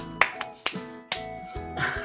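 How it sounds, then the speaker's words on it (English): Someone claps three crisp, sharp times about half a second apart, close by, with a steady tonal hum running underneath and no talking. "we have some clapping going on from Cookie"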